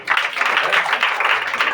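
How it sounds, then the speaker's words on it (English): Workshop attendees at a physiotherapy pain seminar give a brief round of applause, a dense steady patter of many hands clapping at close range with a few voices mixed in. "Give a big round of applause."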